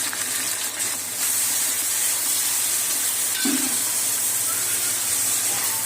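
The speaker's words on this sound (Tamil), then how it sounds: "இப்போ இது கூட கட் பண்ணி வச்சிருக்கிற புதினா, கொத்தமல்லி, கூடவே பச்சை மிளகாய் எல்லாத்தையும் போட்டு வதக்கி விட்டுக்கலாம்." Mint, coriander and green chillies sautéing in a pan for biryani, a steady loud sizzle and hiss throughout, with a brief low clunk of stirring partway through and no talk.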